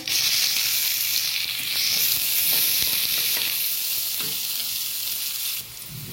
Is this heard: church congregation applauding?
no